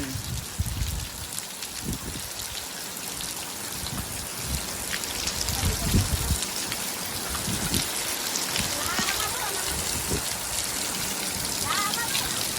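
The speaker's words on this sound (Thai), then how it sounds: "สมบูรณ์ขนาดฝนตกตกดีตกขักตก แน่ ตกของ ตกงามพี่น้องเอ้ย" Heavy rain pouring down steadily and loudly, with dense drops pattering on surfaces and running water throughout, close by and continuous with no talking.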